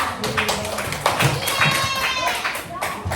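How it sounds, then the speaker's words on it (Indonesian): Students in a classroom at a junior high school in Padang clap for a classmate, a loose burst of uneven hand claps mixed with children's chatter and a few thumps. "Oke, tepuk tangan untuk Iza"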